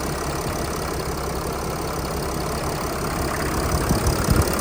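2008 Dodge Sprinter van engine idling after a belt service and water pump replacement, a steady close rumbling hum with a slight rattle, growing a little rougher toward the end.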